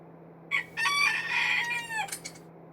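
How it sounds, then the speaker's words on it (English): A rooster crows once in a drawn-out call, preceded by a brief squawk and followed by short clucks, clear and fairly close over a steady low electrical hum. "Stupid chickens."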